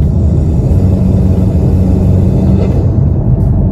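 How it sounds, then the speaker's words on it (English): A 10th-generation Honda Civic with a stock turbo rumbles loud and steady throughout, a deep continuous drone with a faint whine on top, no talking. "So here is the sound of our stock turbo."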